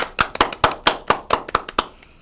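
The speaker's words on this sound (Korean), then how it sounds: "학생에게 다시 한번 박수 보냅니다" A small group claps for a student at a career coaching recording, about ten crisp, evenly spaced hand claps close by, fading out at the end.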